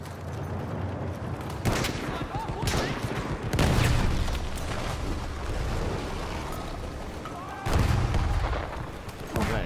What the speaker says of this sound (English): why is this building getting shelled so far?